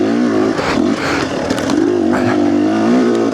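A KTM XC250 two-stroke dirt bike runs close and loud, its engine note dipping and rising as it shifts gears, with some mechanical clatter mixed in.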